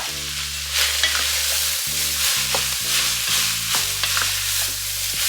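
Steady sizzling and crackling of chili and garlic stir-fried in a hot pan, with occasional clicks of a utensil scraping and tossing.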